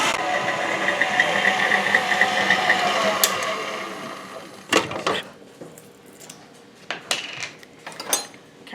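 Electric hand mixer whipping a low-carb chocolate hazelnut cheesecake pudding, a steady close whir for about four seconds that then stops, followed by sharp clinks and scrapes of utensils against the bowl.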